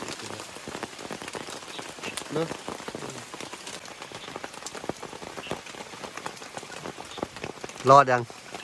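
Rain falls steadily on a forest campsite with a dense patter of drops hitting the surfaces, and a brief voice breaks in near the end.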